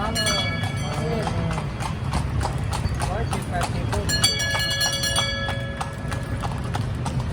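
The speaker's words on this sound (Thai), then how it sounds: "อันนี้คือม้าไว้ใช้งานเนาะ" Hooves of a working horse pulling a carriage clip-clop in a steady rhythm on a road in Lampang, with a brief whinny and people talking in Thai over the hoofbeats.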